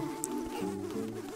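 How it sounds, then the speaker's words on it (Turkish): In the Nintendo game The Legend of Zelda: Spirit Tracks, a swarm of bees buzzes in a continuous wavering drone, loud and close, layered with game music. "Oğlum arılar, gidin lan bir."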